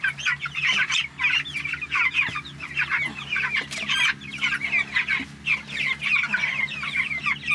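A flock of meat chickens in a chicken tractor on pasture cluck and chatter continuously up close, with overlapping calls and a low steady hum underneath.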